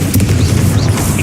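A Bombarda explosion spell goes off in Hogwarts Legacy, a loud, heavy low boom that rumbles continuously through the whole moment with no pause.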